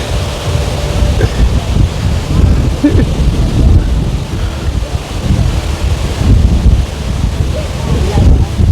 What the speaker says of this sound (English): Amazing waterfall